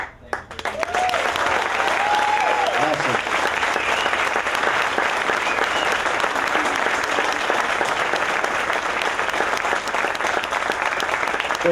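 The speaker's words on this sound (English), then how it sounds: "I think they deserve another round of applause while we're at it." An audience at a Florida Panthers live event applauds steadily, a broad, dense wash of clapping starting abruptly and sustaining loud for the whole stretch with no pauses.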